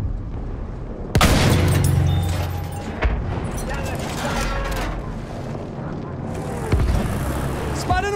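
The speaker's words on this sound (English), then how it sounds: "Wait for the enemy artillery barrage to start firing" Enemy artillery barrage in a video game, heavy shells booming with sharp loud impacts at intervals amid rumbling battle noise, while voices talk over the action.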